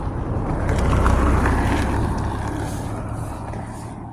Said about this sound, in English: Hold on, there's a car coming.